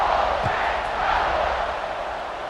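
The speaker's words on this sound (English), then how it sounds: "this crowd is buzzing after that last score" A stadium crowd at a college football game in EA Sports College Football 26 buzzes with a steady, loud, dense roar that eases slightly toward the end.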